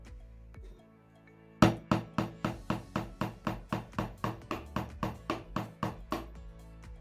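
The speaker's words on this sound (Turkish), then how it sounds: "Deniz kabuğunu delmeyi başardık." Repeated sharp impacts of a tool working into a seashell, about sixteen evenly spaced hard taps after a quiet start, close and fairly loud with no talking.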